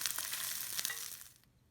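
Shrimp frying lightly in a pan for ebi chili, a bright crackling sizzle with small pops for over a second before it abruptly quiets to faint residual sizzling.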